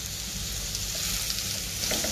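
Onions sauté with a loud, continuous close-up sizzle in a pan for a Kerala crab roast, with stirring mixed in and no voices heard.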